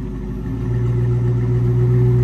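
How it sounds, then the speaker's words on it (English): A 1996 Ford Mustang GT convertible engine idles steadily and loudly nearby through dual exhaust pipes, a low rumbling drone that swells slightly partway through. "I love the dual out pipes in the back and I love the sound of the engine"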